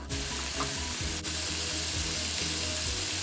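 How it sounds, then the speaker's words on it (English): Steady, close sizzling and crackling of chicken strips deep frying in hot oil on medium heat, continuous throughout with no talking. "Deep fry the chicken strips on medium heat."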